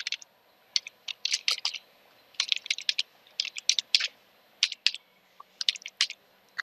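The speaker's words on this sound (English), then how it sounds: "Now type the IP address of your machine." Keys tapped on a computer keyboard while entering an IP address, in quick close bursts of crisp clicks separated by brief pauses, with no voices.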